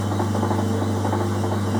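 A metalworking lathe runs slowly in back gear at about 40 rpm with the split nut engaged, giving a steady close motor hum with rhythmic mechanical gear rattle and no talking.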